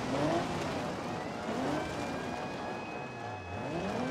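In the BeamNG.Drive driving game, a Mercedes car stuck in mud on a dirt road revs its engine continuously, a steady droning roar that rises and falls slightly without pause.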